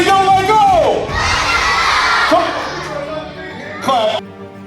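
A crowd of children at a school assembly shouts a phrase in unison, loud and close, followed by cheering and another short burst of chanting.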